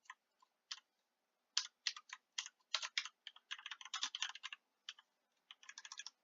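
Typing code on a computer keyboard, crisp quiet key clicks in irregular bursts and short rapid runs, close up with no voices.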